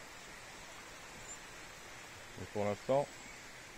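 A steady, soft rushing wash of falling water fills the background at a distance, with a brief voice speaking near the end.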